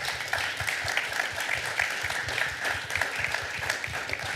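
Steady audience applause fills a conference hall at an energy and climate forum in Vienna, dense clapping sustained throughout without pause, moderately loud and even.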